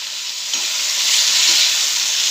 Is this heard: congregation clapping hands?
no